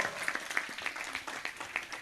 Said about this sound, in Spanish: Aplauden al Señor Dios Todopoderoso.